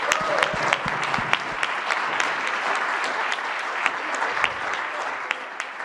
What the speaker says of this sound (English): So we owe you a big round of applause.